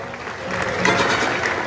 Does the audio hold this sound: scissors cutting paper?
no